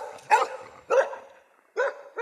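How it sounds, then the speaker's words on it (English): Dog barking: four short, sharp barks spaced unevenly, close and clear against near silence, no talk. "Hark, hark, the dogs do bark."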